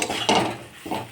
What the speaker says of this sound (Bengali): মশলাটা এখন খুব ভালো করে কষা হয়ে গেছে। আমি এর মধ্যে এখন আলুটা দিয়ে দিলাম।